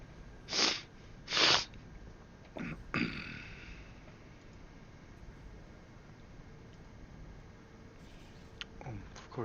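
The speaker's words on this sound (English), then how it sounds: "Sorry, having a bit of a sneezing fit here." Two sharp sneezes in quick succession near the start of a sneezing fit, followed by a third softer burst and a snort-like sniff, close and loud over a quiet room hum.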